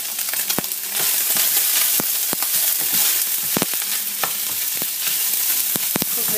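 Onions and garlic fry in a pan that already has oil in it. A close, steady sizzle is punctuated by sharp utensil clicks and taps against the pan at irregular intervals.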